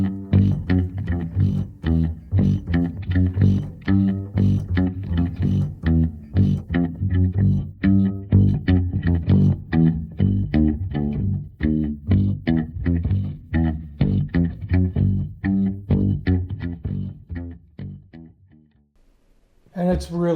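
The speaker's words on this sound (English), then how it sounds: "the number 1 is going to be the bass riff for the theme song to the movie Bullitt." Bass riff from the Bullitt movie theme, a 1960s film score, played as an isolated track: a steady, punchy low-end groove of repeated plucked notes running continuously, loud and alone, with a brief pause near the end.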